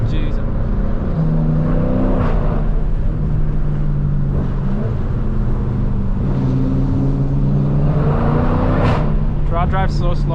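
A Dodge Challenger SRT rumbles and pulls hard through a canyon road bend, with rising and falling engine tones as it accelerates out of the turn, close and loud throughout under a voice.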